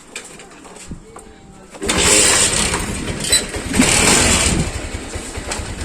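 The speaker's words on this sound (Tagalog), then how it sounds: "Check natin yung engine." A five-year-old Rusi motorcycle's engine catches and runs with a steady, rough, close-up rumble and slightly noisy exhaust flaring, rising loudly after a quieter start with a brief bit of talk early on.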